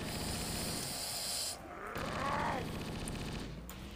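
Enemy gunfire in the Halo: Combat Evolved video game: dense, rapid bursts of shots rattle on continuously and loudly, with a sweeping whoosh rising partway through.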